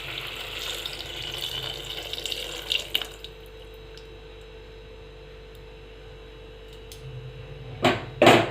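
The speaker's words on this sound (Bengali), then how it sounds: "এবার আমি মশলা ধোয়া জলটা দিয়ে দিচ্ছি।" Spice-washing water is poured into a cooking pan of oil for vegetarian potato dum, giving a few seconds of rushing, splashing flow that settles into a low hiss, then a couple of sharp clatters at the end.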